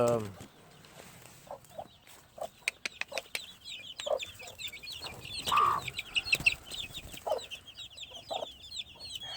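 Brown red gamefowl hen clucking on a farm, a run of short close clucks with scattered louder calls and soft fowl noise around, heard alone without talk.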